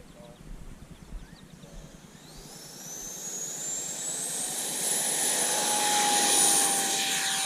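Freewing F-14 Tomcat V2 radio-control model jet with twin 64mm electric ducted fans flies past outdoors, a steady high-pitched whine swelling louder and rising in pitch as it nears, with wind noise and rustle underneath.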